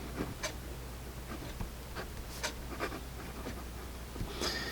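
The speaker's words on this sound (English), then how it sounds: "it is a smooth writing pen" A Linc Pentonic 1.0mm ballpoint pen writing on paper, giving faint, scattered scratchy strokes in short bursts over a quiet background.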